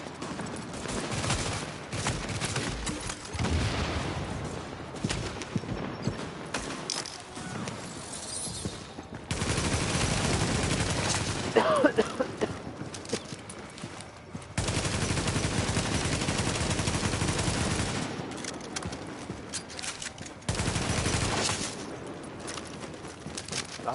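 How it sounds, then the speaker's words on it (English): Repeated gunfire from a weapon fired in short three-round bursts in The Division, loud and dense with sharp cracks packed across the clip, broken by a few brief quieter gaps. "I do use a 3-round style burst, so that way I do have better trigger control"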